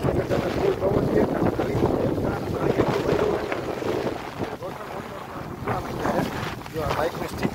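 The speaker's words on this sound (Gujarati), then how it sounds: "વરસાદ પાછું ચાલુ થઈ ગયો છે. જો ચાલુ જો હવે તમે જોઈ શકો ફૂલ પવન છે." Strong gusting wind in Dwarka during days of continuous rain and flooding buffets the microphone with a loud, rough roar that surges and dips throughout, with faint voices underneath.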